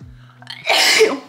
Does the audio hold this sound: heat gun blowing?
no